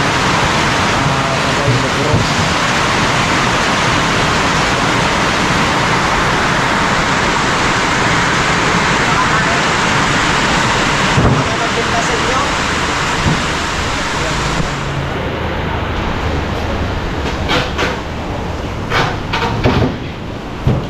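Typhoon wind and heavy rain rush in a loud, constant broadband roar while travelling through the storm, with someone talking over it and some knocks near the end.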